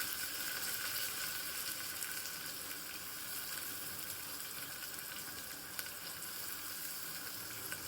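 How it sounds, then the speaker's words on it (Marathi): Onion frying with garlic and curry leaves in a pressure cooker, a constant dense hiss and crackle of hot oil, steady and fairly quiet, with no talking. "कांदा छान असा ब्राऊन करून घ्यायचा आहे."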